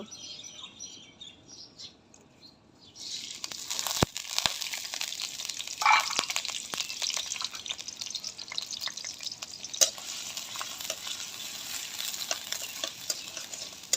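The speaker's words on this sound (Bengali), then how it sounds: "পেঁয়াজটা একটু আমি বাদামি কালার করে নিব" Onions and green chilies frying for a Bengali country chicken bhuna, starting quietly and then turning into a loud, continuous sizzle with repeated spatula scrapes and clacks, while birds chirp faintly in the background.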